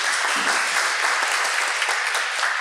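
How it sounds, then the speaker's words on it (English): An audience at a Dubai Toastmasters club meeting gives a steady round of applause, dense clapping that holds evenly throughout without voices over it. "give him a round of applause"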